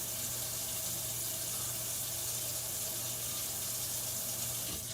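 Tap water runs in a steady, faint, continuous hiss as flower stems are rinsed under it, with no voices over the flow.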